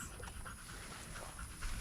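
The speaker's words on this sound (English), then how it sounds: "The dog's up there in the weeds." A dog pants steadily on a hot day outdoors in weeds, quick breathy huffs close by for a couple of seconds with no talking.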